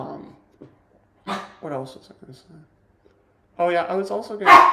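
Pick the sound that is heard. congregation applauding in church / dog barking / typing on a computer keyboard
dog barking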